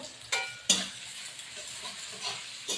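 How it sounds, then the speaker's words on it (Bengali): Onions fry quietly in a pan with bay leaf, dried chilli and a pinch of sugar, a soft sizzle broken by a few sharp scraping stirs of a spoon against the pan. "পেঁয়াজটা ভাজা হোক"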